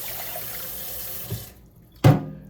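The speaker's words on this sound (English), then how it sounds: "what I'm going to add to this is 2 cups of water" Water runs from a kitchen tap, then a short splashing pour near the end as two cups of water are added to a pot of black rice; close, fairly loud and brief, with no talking.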